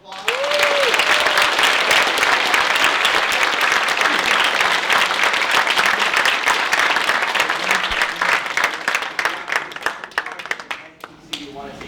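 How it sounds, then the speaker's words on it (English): Audience applause for a speaker at a talk, a loud, dense round of clapping that holds steady for several seconds, then thins into scattered claps and fades near the end. "Alexis Scott, let's give her another round of applause."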